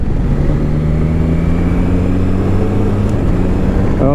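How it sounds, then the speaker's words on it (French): A Triumph Tiger Sport 660 three-cylinder motorcycle engine drones loud and close, its tone rising steadily as it revs, with no voices over it. "découvre son deuxième visage avec un 3 cylindres très très rageur, avec une belle sonorité"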